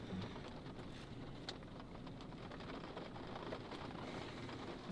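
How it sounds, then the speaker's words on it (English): Steady rain falls outdoors on a New York City street in the Bronx, a dense even hiss with wind rumble and faint patter filling the whole stretch, no clear talk over it. "Suddenly rain."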